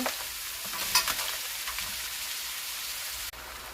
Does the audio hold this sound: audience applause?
no